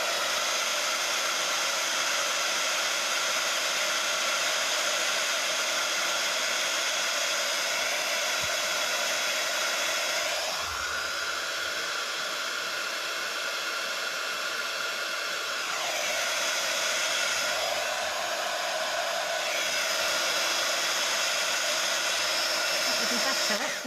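A hair dryer blows over a craft project with a loud, steady roar lasting the whole stretch, its pitch and airflow shifting twice as it is moved or adjusted.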